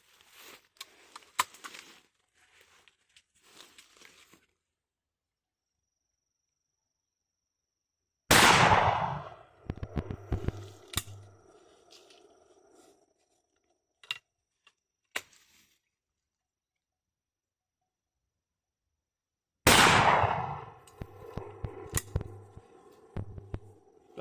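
Two loud, sharp shotgun blasts from a Ddupleks Monolit and Hexolit slug load fired through a full choke, spaced about eleven seconds apart, each trailing off in a rolling echo with a few faint clicks between.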